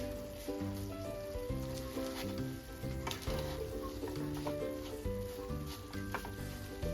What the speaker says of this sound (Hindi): 2 चमचों की मदद से हम इसे अच्छी तरह से मिक्स करेंगे कि पूरी सेवई में हमारी चाशनी अच्छी तरह से लग जाए